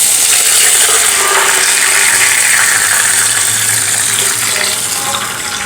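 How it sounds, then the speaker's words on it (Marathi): Water poured steadily into a pan for semolina and potato rolls, a continuous close gushing stream that runs unbroken and fades slightly toward the end, with no talking. "त्याच वाटीने मोजून आपल्याला यामध्ये दोन वाटा पाणी घालायचं आहे"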